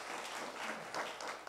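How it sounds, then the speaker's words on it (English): A room of people applauds a speaker at a talk on digital satire, steady broadband clapping filling the short moment without pause, fairly even in loudness. "so like a round of applause for him"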